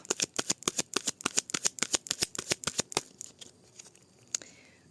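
A deck of tarot cards is riffled and shuffled in a rapid run of crisp, close slaps for about three seconds. A few separate taps and a softer brush follow as the deck is cut.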